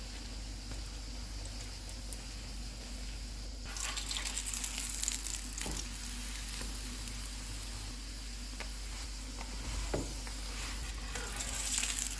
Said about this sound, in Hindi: इस पे घी लगाएंगे और इसे दोनों साइडों से पका लेंगे